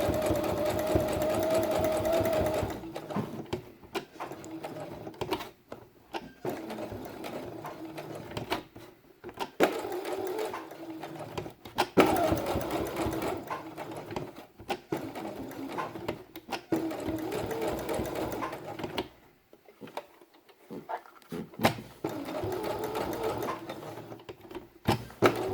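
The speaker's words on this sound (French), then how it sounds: "Fais bien attention de ne pas venir prendre les fils des précédentes coutures dans la couture" Sewing machine stitching a seam through felt, running in bursts of rapid mechanical chatter with brief pauses between runs, close and fairly loud.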